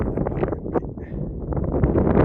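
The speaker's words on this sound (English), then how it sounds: "It's windy" Wind gusting steadily over a microphone outdoors on a walk in Ponta Delgada, São Miguel, Azores, a constant broadband rumble close to the mic with no clear speech.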